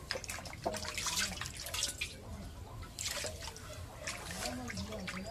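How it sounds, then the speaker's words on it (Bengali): Fish being rinsed in water makes soft splashing, dripping and trickling sounds in irregular bursts, close by and fairly quiet, with faint voices now and then in the background. "এখন মাছ ধুয়ে নেই।"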